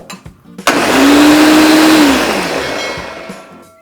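A blender pulses marinara sauce ingredients for chicken parmesan in a kitchen: a loud, steady whirring motor that runs for a couple of seconds, then winds down.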